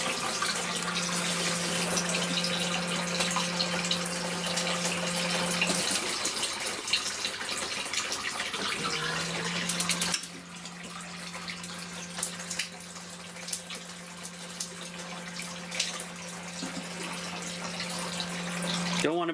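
Water runs steadily through a shower in an off-grid tiny house as air is purged from the line, a loud continuous rushing with a brief dip in the middle, then flow resuming with tonal hum and sputter.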